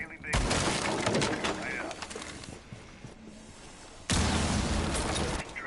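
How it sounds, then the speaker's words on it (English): Thermite's breach charge blows open a bathroom wall during a competitive Rainbow Six Siege match, a loud burst of breaking and shattering debris followed by a second heavy blast, with a commentator talking over the action. "And Thermite opening bathroom wall"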